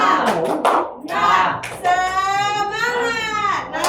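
In a classroom, a teacher demonstrates a rhythmic Indonesian clapping chant: a quick sequence of loud claps is followed by a drawn-out, sung-shouted chant word.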